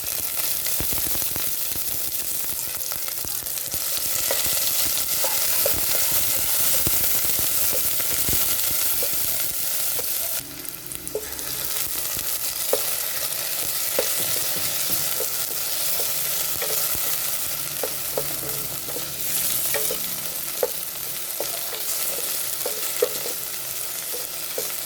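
Garlic, onion and tomato sizzle and fry in a casserole pan, with a steady bright hiss throughout and occasional stirring scrapes and clicks, close and continuous with no talking.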